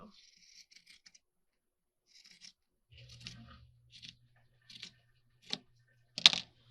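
Scissors snip through fabric in a handful of separate, crisp cuts that grow louder toward the end, close by in a quiet room with a faint low hum underneath.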